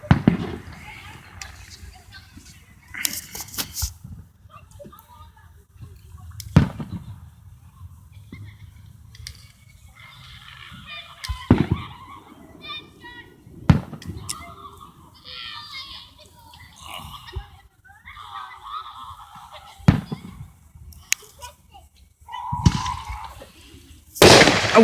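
Fourth of July fireworks bang and crackle outdoors in a string of sharp, loud bursts spread through the stretch, with children's voices and chatter between the explosions.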